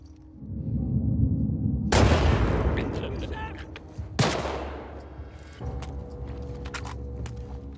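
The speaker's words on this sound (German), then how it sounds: "So, der Schuss muss sitzen." Gunfire in the video game The Last of Us Part II: two loud, heavy shots about two seconds apart, each trailing into a rumbling decay over steady game ambience.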